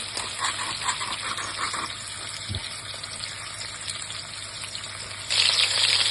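Pork chops fry in a pan over medium-high heat, giving a continuous close sizzle and spitting crackle, with a low hum underneath and the hiss turning louder and brighter near the end.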